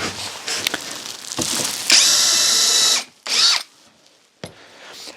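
Power drill pre-drilling holes into a wooden twin bed frame, a close high whine in two bursts, a longer run of about a second and a short second pull, with light handling clatter around them.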